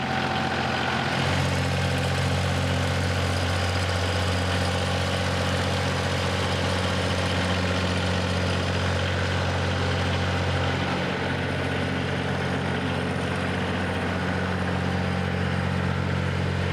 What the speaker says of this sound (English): now that my tractor was back up and running,